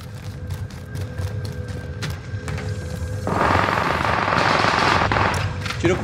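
Call of Duty Warzone gunfight: a steady train of rapid sharp shots, then heavier, louder sustained automatic fire with booming impacts taking over midway, continuing to the end.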